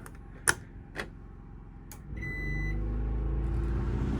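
A few sharp clicks and taps sound, then a camper air conditioner running on a portable generator kicks on with a rising low hum that settles into a steady, continuous drone.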